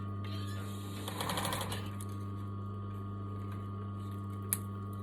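A sewing machine stitching tutu net runs with a steady close mechanical hum, and a brief burst of faster rattling stitching near the start; a single small click comes toward the end.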